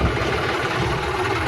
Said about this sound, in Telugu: మెల్లగా పోతున్నా మీకు ఆల్రెడీ ట్రాక్టర్ సౌండ్ కూడా వినిపిస్తుంది